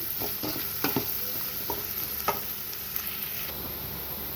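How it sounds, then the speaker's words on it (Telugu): Onions fry in a pan until reddish for a masala boti curry, a close, steady sizzle with repeated scraping and clicking of a spoon as they are stirred. "ఇది మంచిగా రెడ్ కలర్ వచ్చేదాకా ఫ్రై చేసుకుందాము ఆనియన్స్ని"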